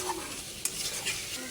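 Meat cooks in a pan as garam masala is stirred in: a soft continuous sizzle with a sharp utensil scrape partway through and light stirring, close and quiet, no voices.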